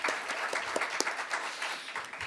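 Attendees at a Korean foreign policy forum applaud four presenters, a fairly quiet, moderately sized round of clapping with individual claps standing out against the blended wash.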